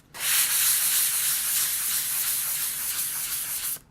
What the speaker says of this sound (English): Right away you can see how it chalks up, which means it's sanding very rapidly